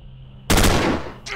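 A single loud rifle shot in the video game Stellar Tactics, a sharp close blast that rings out and decays, followed by a brief fainter noise.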